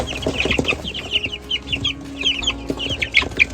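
Crested farm chickens with little pom-pom topknots cluck close by, a busy run of short, repeated clucks and calls rising and falling in bursts, with no talking.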